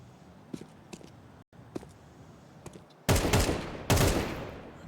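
Counter-Strike pistol-round gunfire: several scattered single shots and soft footsteps, then two loud, dense bursts of rapid fire near the end, with no talking over them.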